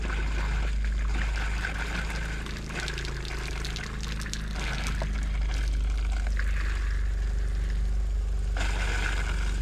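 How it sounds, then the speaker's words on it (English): Antifreeze pours steadily from a shower faucet in an E-Pro E20BHS camper during winterizing, a continuous close splashing trickle that grows slightly louder toward the end, with no talking. "Okay, now we'll do the shower. We want to turn each one hot and cold and get antifreeze to pull through."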